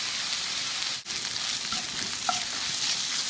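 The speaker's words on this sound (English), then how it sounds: "let's cook this for a little bit longer till the apples are tender" Sausage and apple stuffing cooking in a pan, an even, dense sizzle that carries on steadily with only a brief dip and faint crackles.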